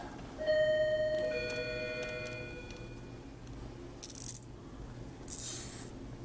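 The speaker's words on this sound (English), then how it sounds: "pump is good. I can hear it clicking." Mechanical clicking with tonal whine from a Rug Doctor carpet cleaner pump after a pump kit replacement, then two short bursts of hissing spray; fairly close and steady.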